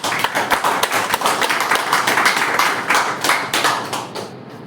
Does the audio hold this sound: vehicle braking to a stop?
no